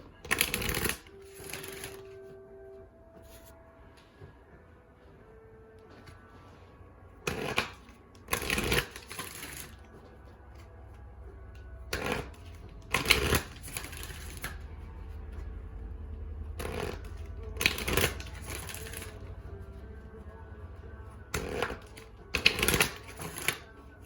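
A deck of Goddess Guidance oracle cards is shuffled in repeated quick riffling bursts, close and crisp, separated by quiet pauses with faint room hum.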